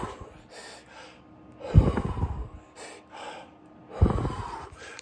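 Heavy, ragged breathing after exercise sounds close and fairly quiet, with rhythmic panting puffs and two sharper, deeper gasping inhales.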